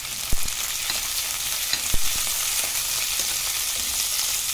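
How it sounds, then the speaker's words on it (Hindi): Carrots and other vegetables stir-fried in a pan with little oil, a steady frying hiss punctuated by two sharp utensil knocks and lighter scraping as the vegetables are turned. "इसको चलाते हुए हम पकाएंगे।"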